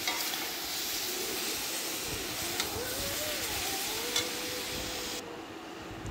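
Spices fry in oil in a pan for a chicken soup, a continuous hissing sizzle with faint stirring underneath, close, even and unbroken, with no voices.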